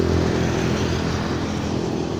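A motorcycle engine roars past close by, a loud, steady droning hum that holds through the whole moment with no talk over it.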